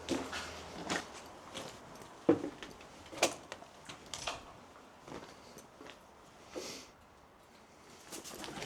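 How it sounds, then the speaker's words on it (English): Scattered soft bird flutters and coos echo faintly in a quiet, hollow space inside an abandoned army hospital in Athens, with sharp sporadic clicks and scrapes. "Oh, there's fucking birds up there, man."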